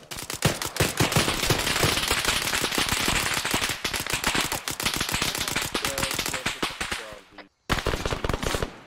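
Rapid gunfire cracks from a building in an Arma 3 firefight, dense bursts of automatic shots close and loud, continuing almost nonstop with a brief pause before firing resumes.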